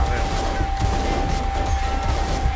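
Dense, continuous gunfire rattles through a jewelry store heist in Payday 2, loud and unbroken, with a faint steady tone beneath.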